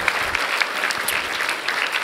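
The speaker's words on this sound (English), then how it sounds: "a big round of applause to everyone who helped answer questions today" A dense round of applause from a crowd at the end of an RDC 2018 panel, steady and close, with many hands clapping at once throughout.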